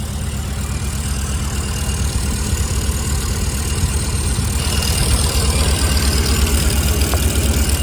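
A Jensen Healey V8 engine idling loudly up close, with a fast, steady mechanical ticking running through the rumble.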